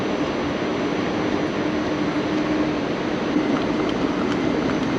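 A DB ICE high-speed train pulls into a German station platform on the Hamburg to Leipzig line, with a steady, broad rumble and hiss that holds at an even loudness throughout, with no voices.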